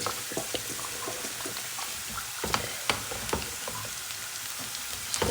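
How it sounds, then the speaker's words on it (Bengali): Sliced onions fry in oil for tempering a Bihari-style dal, giving a quiet, steady sizzle with scattered crackles and pops. "পেঁয়াজ কিছু দিয়ে দিচ্ছি বাগার দেওয়ার জন্য"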